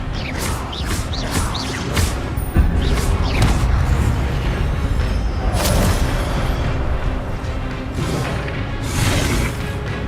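Expelliarmus spells are cast repeatedly in the Hogwarts Legacy video game, producing a dense, loud run of whooshing bursts and booming impacts.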